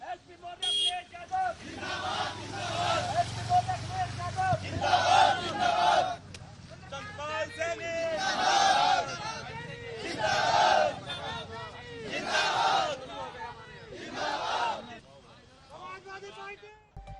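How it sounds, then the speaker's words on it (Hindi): A crowd of supporters gathered outside a politician's house during the UP election campaign, with bursts of shouting and chanting rising and falling across the clip over a steady low rumble of voices and street noise. "उनके घर के बाहर अब समर्थकों की भीड़ जुट गई है।"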